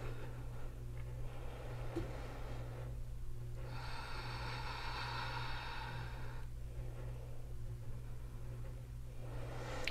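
Breaths come slow and audible while someone holds a yoga high plank, with long airy inhales and exhales heard close over a quiet background hum.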